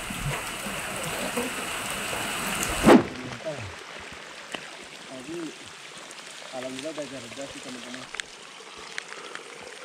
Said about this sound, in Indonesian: Parah hujannya deres banget.